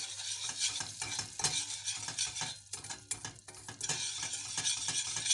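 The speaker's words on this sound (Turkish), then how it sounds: "Şekerimizi koyduk. Karıştırıyoruz." Sugar being stirred into a cake mixture for a mosaic cake, a steady, close scraping and swishing with irregular clinks against the bowl, continuous throughout with no talking.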